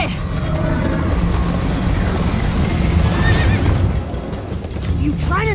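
A horse neighs in the video game Minecraft Story Mode, with shrill whinnies over steady clip-clopping hooves in a dense, loud game soundtrack.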